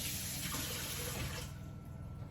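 Water runs steadily from a kitchen tap for a quick rinse, a loud close hiss that cuts off partway to a softer trickle.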